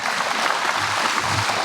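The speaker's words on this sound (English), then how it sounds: "you give them a round of applause" A round of applause from an audience at an MG anniversary gathering, a steady broadband patter of many hands clapping at moderate volume, continuous through the short stretch with no voices.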